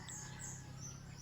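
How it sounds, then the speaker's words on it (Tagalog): Birds chirping faintly on a cold morning, scattered high calls over a steady low background hum, distant and continuous with no voices. "Yan, daming ibon guys."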